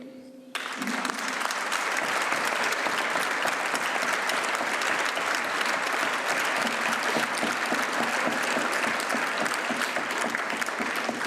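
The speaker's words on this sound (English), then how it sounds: "je vous demande de les applaudir." Sustained applause from a large audience at the closing ceremony of the 2019 UIA congress in Luxembourg, starting after a brief pause and holding steady and dense, with no voices above it.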